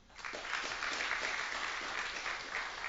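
Steady applause from an audience at a correctional facility awards ceremony, greeting an award finalist with continuous clapping that swells quickly and holds even and full throughout.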